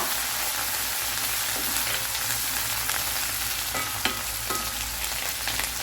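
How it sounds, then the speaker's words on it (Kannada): Coriander leaves frying in hot oil until crisp for an instant dal mix, giving a loud, continuous close sizzle with occasional stirring scrapes and taps. "ನಾವು ಬೇವಿನೆಲೆ ಎಷ್ಟು ಗರಿ ಮಾಡ್ತೇವೆ ಹಾಗೆ ಕೊತ್ತಂಬರಿ ಸೊಪ್ಪನ್ನು ಗರಿ ಮಾಡಬೇಕು"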